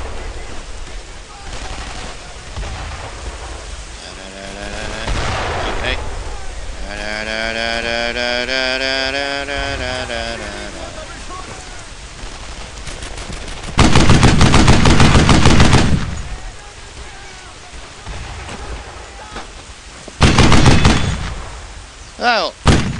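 Loud bursts of rifle and machine-gun fire in the World War II shooter Brothers in Arms: Earned in Blood, heavy volleys separated by quieter stretches with tonal game sounds and a steady low hum underneath.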